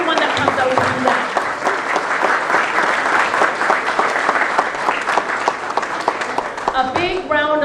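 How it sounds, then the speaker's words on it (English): A large audience applauds campaign volunteers at a Liberal campaign launch in Markham-Thornhill, the dense clapping steady and loud for several seconds before it begins to thin out near the end. "So a big round of applause for them and their volunteer work"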